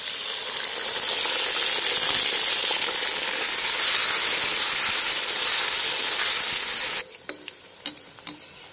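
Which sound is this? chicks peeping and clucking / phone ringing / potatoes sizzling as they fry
potatoes sizzling as they fry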